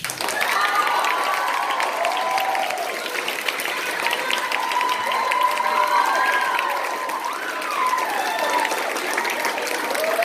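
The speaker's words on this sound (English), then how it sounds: "Please give a big round of applause for Xavier." An audience applauds a speaker at a lab talk on implicit bias, with steady, dense clapping and some cheering running the whole time, loud and close.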